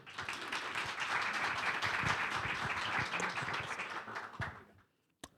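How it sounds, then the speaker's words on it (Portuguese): A crowd applauds steadily for several seconds, a dense patter of clapping that fades out near the end. "Uma salva de palmas, por favor."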